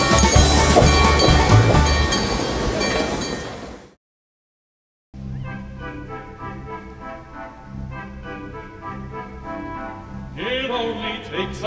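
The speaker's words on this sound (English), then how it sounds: "we're being pushed by the same locomotive that took people to the Pan Pacific Exposition in 1915" A historic passenger train pushed by an old steam-era locomotive that served the 1915 Panama-Pacific Exposition, heard as loud, continuous rolling rumble and rhythmic clatter, cut by a second of silence before the running noise resumes with squealing tones.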